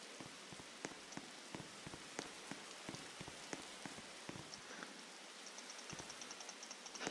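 Steady rain in a Roblox game patters on a surface, with scattered heavier drops landing irregularly throughout; no voices.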